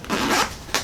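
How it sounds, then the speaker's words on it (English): A zipper being drawn open on an ST-style guitar case with a two-zipper design: a close, rasping pull in two strokes, a longer one and then a shorter one, with no other sound. "I would have liked to see if this zipper would have went a little farther back to make it easier for opening"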